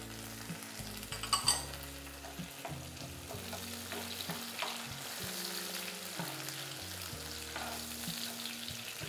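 Chopped tomato and onion sizzle steadily in a pan over a medium flame, a continuous close frying hiss with occasional stirring scrapes and no voices.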